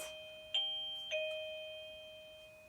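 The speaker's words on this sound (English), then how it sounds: "now the doorbell makes a noise and the dog hears" A household doorbell rings a two-note ding-dong, with the second tone sounding about half a second after the first. Both chimes are clear and close, ringing out and fading over the following seconds in a quiet room.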